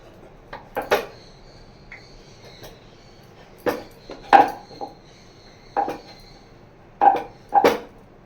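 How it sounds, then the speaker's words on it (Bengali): A rolling pin flattens flour dough on a board for dim puri, giving scattered light wooden knocks and clacks. The taps come in irregular clusters, close by and fairly soft, against a quiet kitchen background. "এটা একটু ময়দা দিয়েই বেলে নেব"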